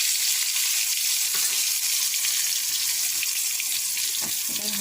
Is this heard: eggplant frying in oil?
yes